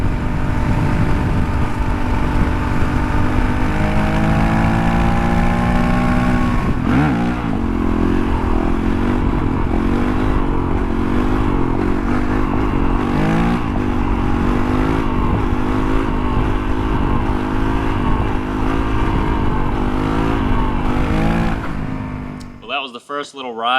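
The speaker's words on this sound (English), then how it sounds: "First little ride on the 450L." A Honda CRF450L dual sport motorcycle rides on the street, its engine revving up through the gears with steady buzzing drone, a brief lull mid-ride, then cutting off near the end; a voice talks over it.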